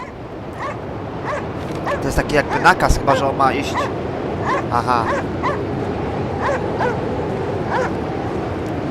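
In the video game Cryostasis, set aboard a nuclear icebreaker, a dog barks, yips and whimpers in bursts while someone talks over the game sound.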